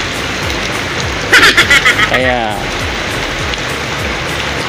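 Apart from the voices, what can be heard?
rain falling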